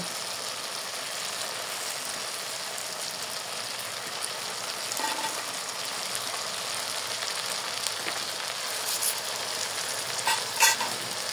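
Chicken pieces dropped into masala frying on low flame for a chicken roast, giving a steady soft sizzle with faint stirring scrapes and a few clinks near the end.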